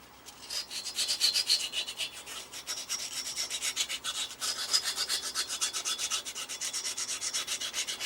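Sandpaper scrubs back and forth on a crusty old 16DP4 CRT from an early TV convention, making a rhythmic, raspy rubbing close by that repeats in steady strokes, with no speech.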